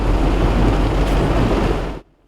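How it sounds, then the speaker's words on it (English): Heavy downpour of rain in a farm field, a loud, dense, steady hiss and rumble of falling water that runs for two seconds and then cuts off abruptly. "Then a downpour."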